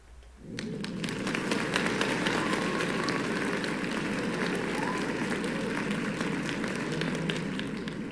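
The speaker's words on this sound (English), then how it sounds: "Let's give them another round of applause, shall we?" Sustained applause from a crowd, rising quickly after a brief quiet start and continuing steadily at full volume, dense and loud throughout.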